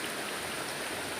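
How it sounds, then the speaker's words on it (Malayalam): Heavy rain pours outdoors during the Onam season, a dense steady hiss of drops close to the microphone with no breaks and no voices. "ഭയങ്കര മഴ"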